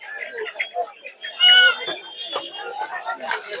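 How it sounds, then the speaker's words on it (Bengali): Quail birds, including white quails, crowded together at a poultry market in Puthia, giving busy overlapping chirps and clucking calls in short bursts over steady market bustle and nearby chatter. "এখানে আরো বিভিন্ন ধরনের সাদা কোয়েল পাখি আছে"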